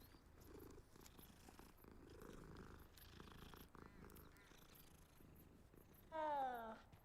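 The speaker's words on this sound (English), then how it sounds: "Is that another cat?" A cat in the video game Hogwarts Legacy purrs softly and continuously, then gives a brief, louder meow-like call near the end, with no talk over it.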